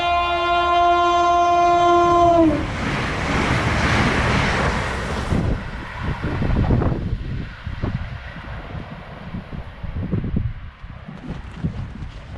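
A train at Midgham sounds a loud, sustained horn for a couple of seconds, then roars past close by, with a rushing, rumbling passage that gradually fades and wind buffeting the microphone.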